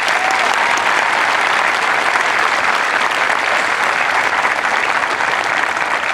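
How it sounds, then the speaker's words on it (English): A large audience applauds at an Air Force basic military training parade, dense, loud and steady clapping filling the whole stretch without letup. "Let's give them one more round of applause."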